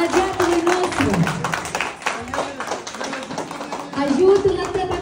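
Villagers in Mihailovca, Cimișlia, applaud during a surprise celebration for a man named Constantin: rhythmic clapping from a small group runs under a man's loud, continuous speech, which dominates throughout.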